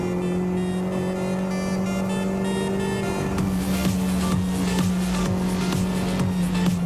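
A Renault Clio R3T rally car drives hard, its engine droning steadily loud from inside and then climbing through the gears with rising revs and tyre noise, no speech over it.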